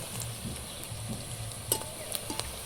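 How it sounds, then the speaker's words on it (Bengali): Fish roe fritters fry in hot oil with a steady, close sizzle and bubbling crackle, with a few light clinks of a utensil near the end and no talking. "এই যে আমাদের মাছের ডিমের বড়া ভাজা হচ্ছে"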